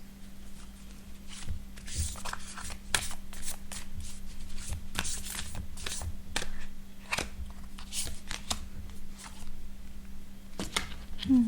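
Moonology oracle cards being shuffled close by in soft, uneven slides and flicks, over a low steady hum, with occasional faint rustles and no clear speech.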